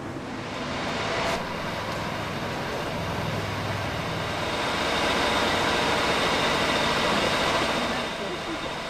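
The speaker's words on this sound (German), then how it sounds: "Der Zug wartet schon." The Brienz Rothorn railway train waits at the valley station, giving a steady, loud rumbling and hissing that swells slightly midway and continues throughout, close by.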